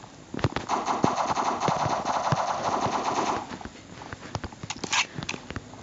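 Uzi submachine gun fire in the blocky first-person shooter Block Strike rattles in a fast, loud burst of several seconds, followed by a few scattered single shots and clicks.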